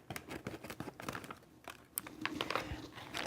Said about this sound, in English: let me just cut this first pack using the scissors that we have here